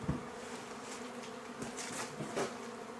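Honeybees buzzing around hive boxes and a bottom board after a swarm, a dense continuous drone with individual bees passing closer now and then, no talk.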